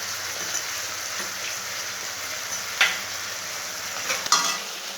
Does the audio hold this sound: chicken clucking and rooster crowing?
no